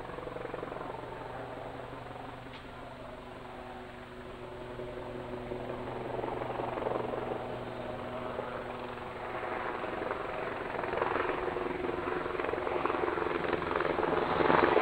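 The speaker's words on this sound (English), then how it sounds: "got a helicopter flying overhead." A helicopter flies over a university football match, its steady thrumming drone growing gradually louder as it approaches overhead.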